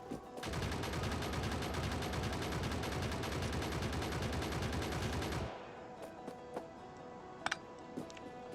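Turrets in the Factorio video game fire a loud, sustained burst of rapid automatic gunfire for about five seconds, then cut off abruptly, leaving a quiet mechanical hum with a few scattered ticks.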